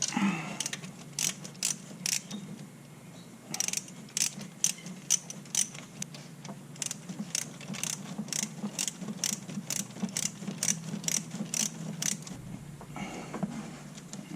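A ratchet wrench with a 10 millimeter socket snugs up bolts while an alternator is installed on a 2001 Ford F-150 5.4, giving close, crisp clicking in irregular bursts over a low steady hum.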